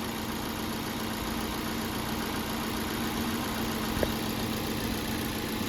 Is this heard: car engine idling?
yes